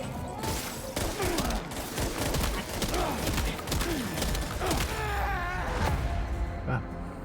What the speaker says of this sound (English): Didn't expect the explosion to actually knock me over.